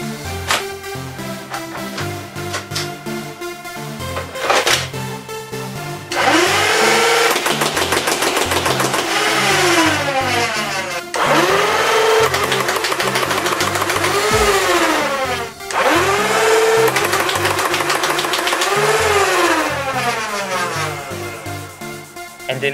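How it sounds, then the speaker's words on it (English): Full-auto Nerf Rival Zeus mega blaster firing mega darts in long sustained bursts, a loud mechanical whirring and rapid clatter that runs for several seconds at a time with brief pauses between volleys. "this blaster also shoots mega darts at a velocity of 130 feet per second"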